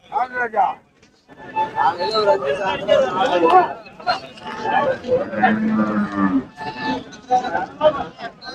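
Cattle moo repeatedly at the Manapparai cattle market in Tamil Nadu, loud nearby lowing calls overlapping one another, while people talk over the animals throughout.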